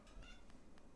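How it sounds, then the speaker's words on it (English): A pet cat meows in a home kitchen while eggs are being cracked, giving a few short, faint cries close by against a low background. "And that was my cat who loves eggs."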